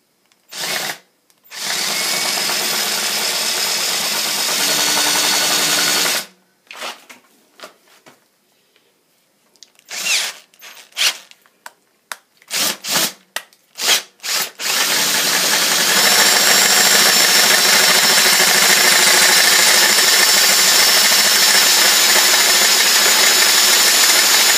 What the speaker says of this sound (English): when we drill, we want our drill to be straight up and down